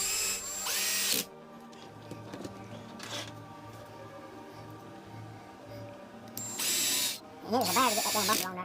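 A power drill drives screws into the front and rear bumpers of an Arrma Outcast 8s RC car, with three loud whirring bursts, the last rising and falling in pitch, separated by quieter stretches of low hum and handling noise.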